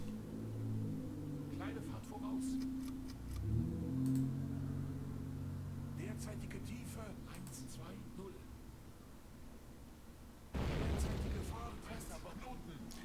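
Depth charges exploding near a submarine in the video game Silent Hunter 3: low, distant rumbling blasts under steady engine drone, with a sharper, louder thump near the end, and someone talking over it.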